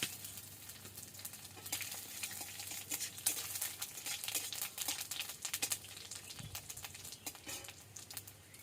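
Dried red chillies, panch phoron and bay leaves sizzle in hot oil in a pan, a steady close crackle and hiss with brighter spitting bursts and no talking.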